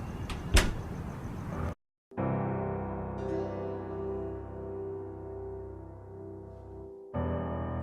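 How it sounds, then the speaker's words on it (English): An apartment building door opening in the game Bohemian Killing, a brief clatter and clicks at the start, then a sustained musical drone with a short gap of silence. "I opened the door and entered the building where my apartment is."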